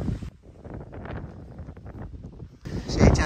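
Rushing wind buffets the microphone in steady gusts on São Miguel island in the Azores, with a louder blast at the end and someone talking underneath.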